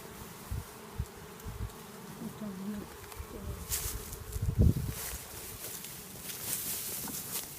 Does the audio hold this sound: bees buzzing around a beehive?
yes